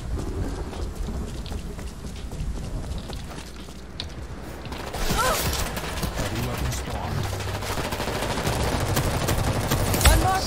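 Rapid gunfire in the online multiplayer shooter World War Z during a tactical team deathmatch, a dense crackle of shots over a steady background din, with a sharp burst near the end.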